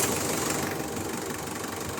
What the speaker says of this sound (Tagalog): Pa-switch off nga ulit natin itong makina. Tapos pa-start ko ulit yan.